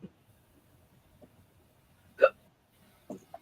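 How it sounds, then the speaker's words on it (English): Short, sharp hiccups sound in a quiet room, one loud catch in the middle and a couple of softer ones near the start and end, with only faint background noise between them. "I got the hiccups now"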